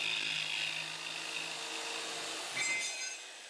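A piece is cut to length during an ammo can radio build, making a steady, close cutting whir that runs almost unbroken and tapers off near the end.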